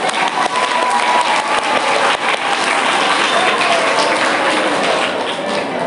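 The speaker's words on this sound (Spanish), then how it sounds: "Por favor, para ellos un aplauso." Sustained applause from a school audience for students, dense, loud and even clapping filling the room throughout without pause.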